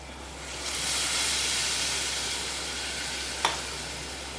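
Water poured into a hot pan of Kathiyavadi-style potato and onion curry sets off a loud, steady sizzle and hiss that swells and holds for several seconds, with a brief clink of a utensil near the end.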